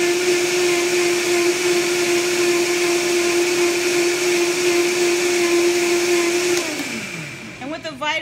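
Vitamix blender running at high speed blending watermelon, a loud steady motor whine that winds down sharply near the end, followed by faint rattling.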